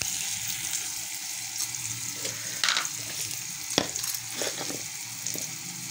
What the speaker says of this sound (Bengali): পেঁয়াজ পকাই দিলে আমি